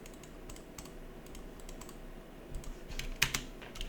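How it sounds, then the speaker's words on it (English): Irregular keystrokes on a computer keyboard as a password is typed into an Ubuntu 24.04 terminal inside a VMware Workstation Player virtual machine, light clicks spaced apart and then a quicker, louder flurry near the end. "Type your password."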